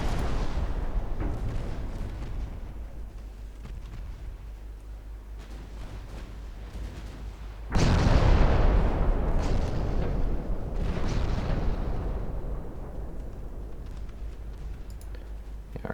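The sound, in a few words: naval gunfire hitting enemy cruiser, video game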